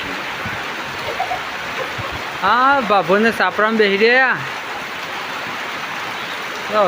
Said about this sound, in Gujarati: જોરદાર વરસાદ પડી ગયો